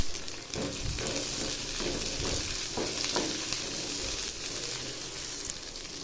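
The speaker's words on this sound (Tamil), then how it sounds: "இப்போ நறுக்கிய வெங்காயத்தை சேர்த்துக்கலாம்." Chopped onions sizzle and crackle steadily in a hot pan while making onion chutney, with a few stirring scrapes. Close and continuous, with no talking.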